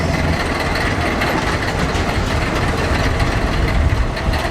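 A golf cart driving up a path gives off a continuous loud, rough motor rumble with rattling noise throughout, with no voices.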